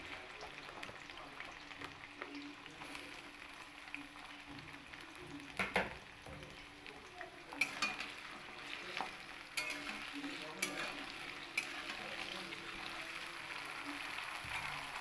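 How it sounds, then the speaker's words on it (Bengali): Carrots and yardlong beans fry in hot oil, giving a steady close sizzle throughout with occasional brighter crackles and spoon clinks as they are turned. "দিয়ে আমি গাজর আর বরবটিগুলোকেও ওই একই রকমভাবেই আমি লাল করে ভেজে নেব"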